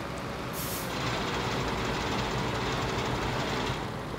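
A trailer is emptied during a sugar beet harvest. Heavy machinery rumbles loudly and steadily throughout, with a short hiss of air near the start and no voices.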